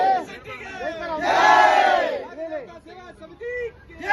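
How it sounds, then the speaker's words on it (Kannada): A crowd at a community committee event by a market road in Kushalnagara lets out a loud burst of cheering and shouting that swells, peaks and fades, with voices calling out around it. "ಅವ್ರಿಗೂ ನಿಮ್ ಕಡೆಯಿಂದ ಜೋರದ ಚಪ್ಪಾಳೆ ಬರಲಿ"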